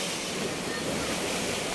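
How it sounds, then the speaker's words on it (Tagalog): Strong surf at a beach resort in Inupakan, Leyte, a steady loud wash of breaking waves with wind noise on the microphone, continuous and close. "Talagang malakas nga lang ang alon ngayon mga tropa."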